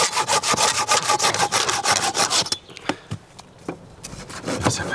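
A hand saw cuts wood for a bushcraft shelter with a fireplace in rapid, even back-and-forth strokes, loud and close, then slows to a few scattered, lighter rasps.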